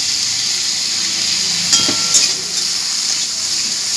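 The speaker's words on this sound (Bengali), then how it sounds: "আলুগুলোকে আমি লাল লাল করে ভেজে নেব।" Potatoes fry in hot oil seasoned with turmeric and salt, giving a loud, steady high sizzle and hiss, with a few brief scraping stirs partway through.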